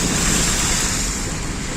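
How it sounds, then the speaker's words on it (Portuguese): Heavy rain falls in Vitória da Conquista as canal water overflows, producing a loud, dense, unbroken rushing hiss of rain and flowing water, close and steady, with no voices heard. "chuva boa, Gerson, chuva boa, Gerson."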